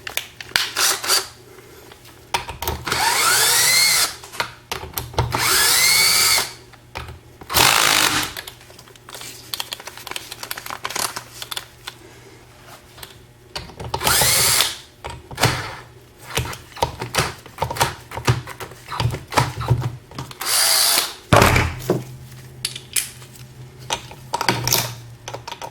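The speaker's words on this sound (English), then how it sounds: "I use one of these electric guns" An electric impact gun works on a Ford T5 five-speed gearbox from a Cosworth Sierra, firing in several loud, separate bursts of rattling hammering between stretches of quieter clatter and handling noise.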